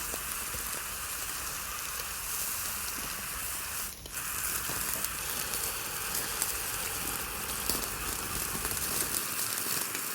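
Salmon with a gochujang glaze sizzles over hot coals on a Lodge Sportsman grill, a steady close hiss with dripping crackle throughout.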